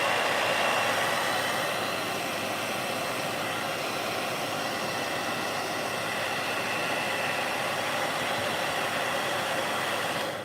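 A hair dryer blows on a wet watercolor painting, giving a loud, continuous, even whoosh that runs alone without a break for about ten seconds.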